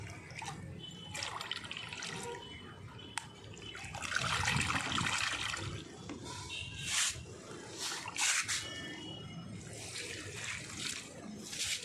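Water mixed with waste decomposer pours and splashes onto garden plants in uneven, fairly quiet trickles and gushes with a few drips.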